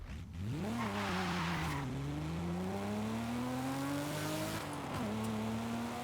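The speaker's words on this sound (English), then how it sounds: "It sounds great. It sounds like an old Skyline." Car engine in Forza Horizon 5, likened to an old Skyline, revving loud and close with a rising, sustained tone, a brief tire squeal near the start and a gear shift dip near the end.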